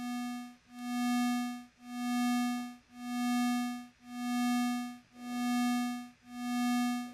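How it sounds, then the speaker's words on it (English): A pure synthesizer tone from a VCV Rack VCO, its volume shaped by a sine-wave LFO, swells and fades in smooth regular pulses, about seven even cycles, steady and clean with no other sound. "the shape of my LFO is controlling the volume of the VCO. And this is called amplitude modulation"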